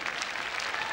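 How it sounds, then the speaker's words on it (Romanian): An audience at a memorial singing event breaks into brief, dense, even applause, heard from close by for a moment. "vă rog să o aplaudați"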